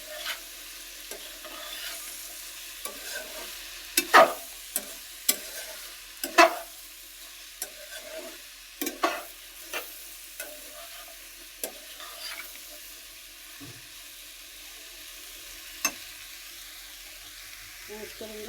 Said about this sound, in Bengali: ঢেঁড়স এখন দিয়ে দিলাম, দিয়ে এখন একটা ভালো করে এখন নেড়ে করে হলদিটার সাথে মিক্স করে নেবো